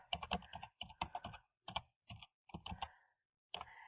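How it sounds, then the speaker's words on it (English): Keys clatter on a computer keyboard as a sentence is typed into a document, quick bursts of close, crisp clicks broken by short pauses, with no talking. "So we'll just type in a sentence here."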